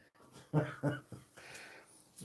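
A dog wanting to go outside whimpers indoors, two short, close whining cries followed by softer breathy whines and snuffles, fairly faint.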